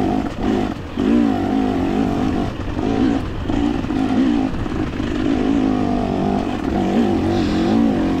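Dirt bike engines at a hare scramble race, one loud near motor droning and revving continuously with wavering pitch, steady throughout with no talk.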